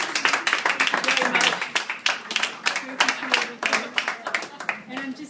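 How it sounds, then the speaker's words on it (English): Audience clapping at an evening gallery gathering, dense and fairly close, with bursts of claps rising and dipping in loudness throughout, mixed with some voices. "I want to give you all a round of applause for coming out in the rain tonight"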